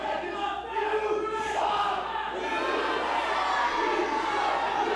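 A packed crowd at an All Pro Wrestling match roars and chants in support of Matt Hardy, a loud, sustained wall of voices that swells and holds without letup.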